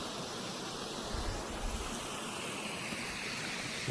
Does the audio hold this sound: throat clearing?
no